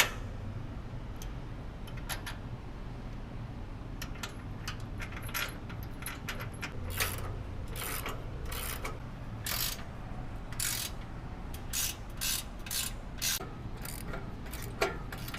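Metal bolts being tightened on Toyota Tacoma rock sliders, heard as a run of quick ratcheting clicks and metallic clatter in irregular bursts, close and moderately loud, with no talking.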